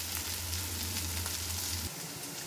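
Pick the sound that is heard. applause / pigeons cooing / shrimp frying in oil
shrimp frying in oil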